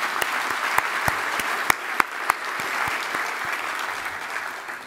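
An audience at a philanthropy celebration breaks into applause, a wash of clapping with sharp individual claps standing out near the front, holding steady for several seconds.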